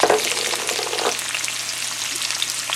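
Onions hitting a heated wok and frying with a steady, close sizzle and crackle, a brief stir near the start, loud and continuous without any talking.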